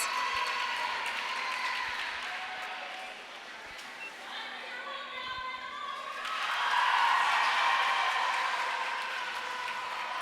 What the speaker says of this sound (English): Her teammates are cheering her on